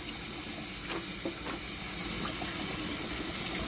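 Two cans of Goya black beans being rinsed under running water, a constant hiss of flowing water with faint scattered ticks and splashes, close and steady.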